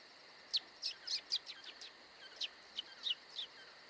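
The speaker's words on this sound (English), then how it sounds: "This branch ain't big enough for the both of us, Bird, so get on your horse." A bird in Atlantis Evolution gives a quick series of high, thin chirps in two bursts of about four calls each, fairly faint over a quiet insect-like hiss.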